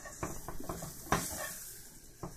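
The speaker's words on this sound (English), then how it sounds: "you press down on them as they're cooking in here" Sausages for a sausage and peppers sandwich cook in a pan while being pressed down, giving a soft steady sizzle with a few light scrapes and one louder clack of a utensil against the pan.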